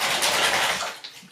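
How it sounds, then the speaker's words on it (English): Tap water runs steadily into a bowl mixed with conditioner for toning hair extensions, a continuous close hiss and splash that softens and tapers toward the end with a small clink. "I'm just going to rinse the bowl out and just fill the bowl up slightly"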